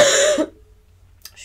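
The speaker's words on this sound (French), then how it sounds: "je tousse d'un coup" A single close, short cough cuts off abruptly, followed by near silence and a faint breath.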